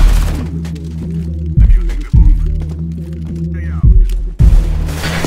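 Gunfire in a shooter video game, with a steady stream of rapid, loud shots and a few heavier booming bursts. A droning hum runs underneath, and voices can be heard talking over the action.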